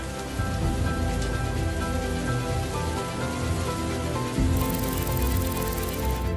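Steady rain falls across the Cerrado, a dense, continuous hiss of drops on surfaces that holds at an even level throughout, swelling slightly near the end, with no voices.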